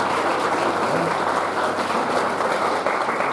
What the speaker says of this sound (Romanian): Domnul să-i binecuvânteze, îi aplaudăm